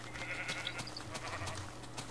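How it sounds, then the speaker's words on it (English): Sheep bleating in the Minecraft video game, several faint overlapping game bleats over a steady low hum, no talk. "I think we're surrounded by naked sheep."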